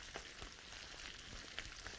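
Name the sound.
deep frying in plenty of oil while stirring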